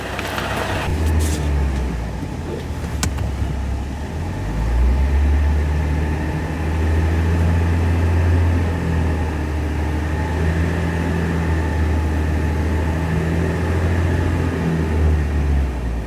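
A car's engine idles and creeps forward as it drives up onto low-profile hydraulic car ramps, a steady low hum that briefly rises in effort, with a couple of faint clicks early on and no talking.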